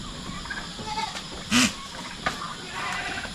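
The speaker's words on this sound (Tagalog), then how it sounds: "Yung kambing na yan." A goat on a farm gives a single short, loud bleat over steady rain-like background noise, with a faint voice nearby.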